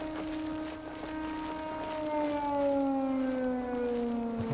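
Siren Head's wailing siren from the horror game Don't Scream Together drones loudly as several layered tones that slowly slide downward in pitch, continuous and close, with no speech.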